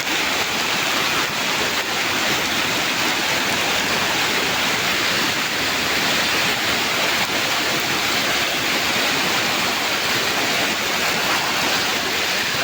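Swollen stream rushing after typhoon rain, a dense, steady roar of churning water filling the whole clip, loud and close with no voices.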